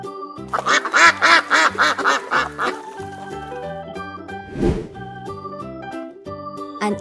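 Duck quacks come in a quick, loud series of nasal calls at the start, then give way to a tonal melodic backing with a soft thump partway through.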